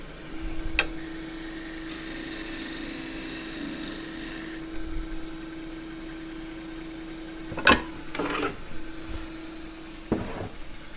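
A large shear scraper cuts a wavy casuarina wood bowl turning on a lathe. Steady, raspy scraping rides over a constant motor hum, with a few sharper knocks and scrapes near the end and no talking.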